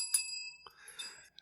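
A bright bell rings close and clear, with a sharp ding at the start and a second ring about a second later, each leaving a short high ringing tail.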